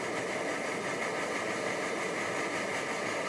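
An older Omnifuel camping stove burner fitted with a flame plate roars steadily, a constant close broadband rushing hiss without pauses or voices.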